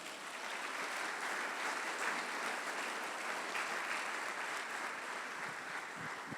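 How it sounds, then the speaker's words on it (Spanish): A church congregation applauds to praise the Lord during a sermon, giving a fairly faint, even wash of clapping that holds for six seconds without voices. "¿Puede darle un fuerte aplauso al Señor?"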